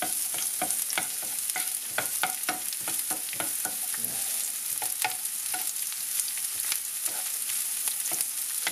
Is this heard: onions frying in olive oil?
yes